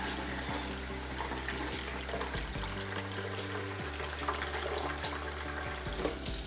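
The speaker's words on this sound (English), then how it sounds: "I'm gonna only fill up to the small water line for right now." Water is poured steadily into the clean-water tank of a Bissell Little Green ProHeat portable carpet and upholstery spot cleaner, a continuous close splashing trickle with a faint low hum beneath and no talking.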